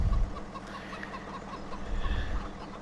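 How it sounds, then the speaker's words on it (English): Chickens cluck steadily in a farmyard of the Farming Simulator 17 video game, several birds chattering over a low rumbling background with no talk. "Howdy, chickens! Talkative bunch they are."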